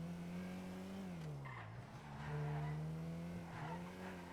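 A car in a GTA roleplay server brakes hard. Its tires squeal in a loud, drawn-out skid over a steady engine drone, with the pitch dipping and swelling as it slides.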